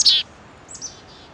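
Chickadees being hand-fed give a loud, sharp chirp right up close, followed by fainter, thinner calls in the background over a quiet outdoor hush.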